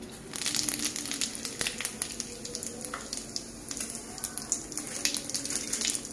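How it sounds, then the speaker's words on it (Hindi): Cumin seeds dropped into hot oil in a pan, a close, steady crackling sizzle with dense popping bursts that continue evenly throughout, no voices. "तेल। हो चुका है मेरा गर्म। अब इसमें मैं डालूंगी पहले जीरा।"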